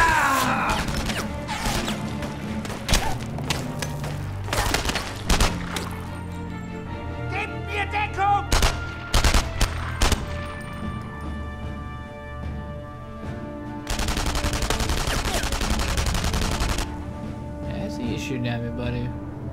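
Gunshots and crashing impacts in the war shooter game Enemy Front, sharp bursts scattered through the clip with a sustained barrage near the end, under frequent talking.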